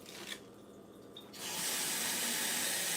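Kitchen tap running onto lettuce being rinsed in a sink, a steady close hiss of water that starts about halfway through and continues loudly to the end after a quieter opening.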